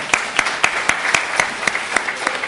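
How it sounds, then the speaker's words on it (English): Applause from the audience at a 2011 San Francisco mayoral forum held at City College, a steady patter of clapping that carries on for a few seconds. "Audiences, please, you might like it, but hold down on the applause, please."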